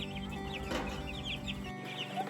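Chickens cluck and murmur close by inside a mobile A-frame coop pen, with several overlapping calls and soft rustling throughout.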